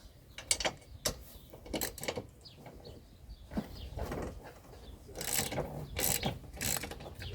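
Wrench ratcheting while loosening bolts on a Yamaha Bruin quad, a series of close mechanical clicks and grinding bursts in uneven spurts, louder toward the end, with no talking.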